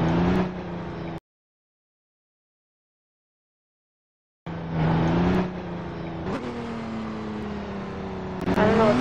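A car in the Roblox ERLC game drives with a steady, droning engine hum that rises and shifts pitch as it accelerates, cutting to complete silence for about three seconds before the engine returns.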